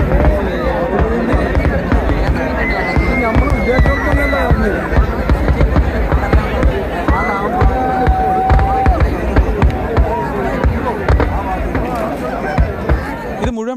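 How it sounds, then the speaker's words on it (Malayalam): A fireworks display at a Kerala festival crackles and pops in dense, continuous bursts, with whistling rockets rising above loud crowd babble. "അപ്പോൾ നമുക്ക് വെടിക്കെട്ട് വീഡിയോ ഒന്ന് പ്ലേ ചെയ്ത് നോക്കാം."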